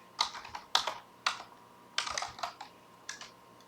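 A word typed on a computer keyboard: several quick clusters of crisp key clicks with short pauses between them, close and alone in a quiet room.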